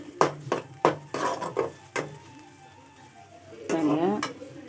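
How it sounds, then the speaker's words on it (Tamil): Shallots and ground spice paste sauté in a pan for a village-style fish kulambu, with sharp clanks of a spoon scraping and tapping the pan over a soft sizzle, and a brief voice near the end. "இப்போது இந்த வெங்காயம் சின்ன வெங்காயம் நல்லா வதங்கிட்ட பிறகு இதை போட்டு நல்லா வதக்கிக்கணும்."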